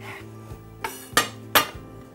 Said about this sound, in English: So I'm just going to go ahead and get that sliced.